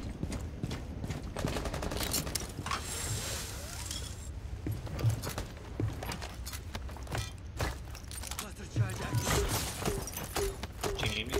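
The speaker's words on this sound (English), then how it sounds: "Oh crap, they're shooting out the windows." Rainbow Six Siege enemies fire from windows on the Kanal map, rapid bursts of gunfire scattered through a busy, layered game mix with clattering mechanical sounds and faint voices under the shooting.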